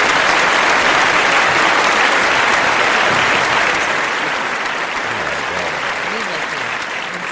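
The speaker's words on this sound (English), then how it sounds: "So that's kind of lackluster applause." Light, lackluster studio applause plays as a radio show sound effect, a dense, steady patter of many hands that fades slightly toward the end.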